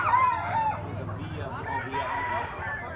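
A gamecock, a stag with pumpkin-colored plumage, crows close by in a long, loud cock-a-doodle-doo, with someone talking over and around it.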